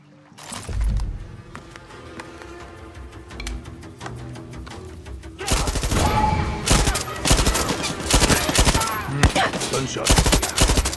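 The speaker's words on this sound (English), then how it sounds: "Gunshot" Rapid gunfire in the Far Cry 6 video game: sparse shots over a quieter stretch, then dense, loud volleys and fusillades crackling almost without pause.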